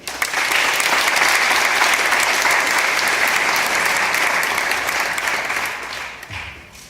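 A large graduation ceremony audience applauds loudly and steadily, the clapping sustained for several seconds before tapering off at the end.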